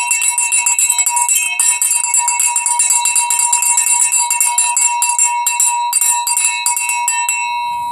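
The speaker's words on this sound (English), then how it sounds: "And so did every bell in the house." Every bell in an old house ringing at once, a loud, dense, continuous jangle of overlapping metallic strikes with sustained tones, fading slightly at the very end.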